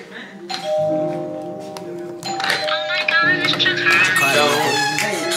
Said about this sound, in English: cause my doorbell just rung.